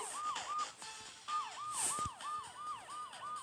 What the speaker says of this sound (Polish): Mogę pojechać karetką? Jasne. Na sygnale mogę?